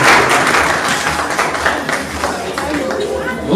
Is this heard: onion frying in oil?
no